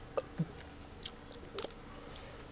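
Someone in a taste challenge crunches on crisp food, probably a pork pie or chicken item, with a few sharp close bites and softer chewing clicks between them. The room is otherwise quiet.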